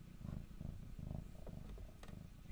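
A cat purrs softly in a quiet room, a low rhythmic rumble with faint clicks and small sounds over it.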